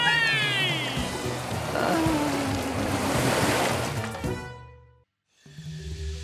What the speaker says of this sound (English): Tide come in. Wash us free.